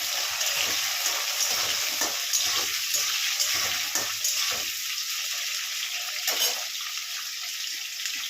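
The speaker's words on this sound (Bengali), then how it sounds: "এটা একটু ভাজা ভাজা মতো হয়ে গেলে আলুটা ক্যাপসিকামটার মধ্যে দিয়ে দেবো।" Potato and capsicum fry in a pan, a loud, steady hissing sizzle held close throughout with occasional stirring scrapes and no voices.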